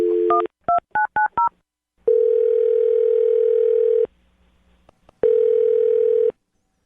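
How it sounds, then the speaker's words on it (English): A phone call being placed: a short burst of touch-tone keypad beeps, then two long, steady ringback tones separated by a pause, clear and close with no talking. "I'm going to dial her phone number right now."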